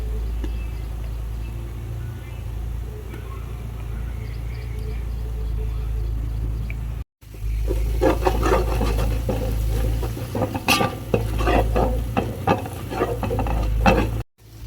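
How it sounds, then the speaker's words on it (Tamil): Chili powder being sautéed in hot oil in a pan for a homemade biryani masala paste, with a steady loud sizzle and scraping stirring strokes that grow busier midway. "மிளகாத்தூள் போட்டு ஒரு பத்து செகண்ட் வதக்கிட்டு"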